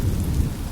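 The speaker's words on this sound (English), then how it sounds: "The rain will accompany you." Steady rain falls in the Honkai Star Rail video game, a dense continuous downpour with a low rumbling undertone, heard alone.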